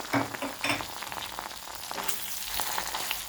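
A tablespoon of tomato paste fries in melted butter in a pan with a crackling sizzle and a few quick scraping stirs, close and moderately loud.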